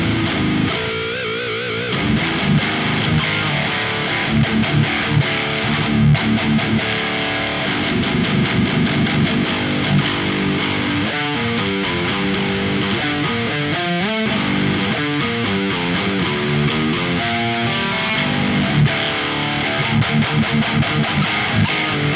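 Electric guitar through a Michael Klein Evil Chunk preamp pedal, a Marshall 8100 style preamp, into a cab simulation, playing continuous distorted riffs with chugging palm-muted passages, loud and close.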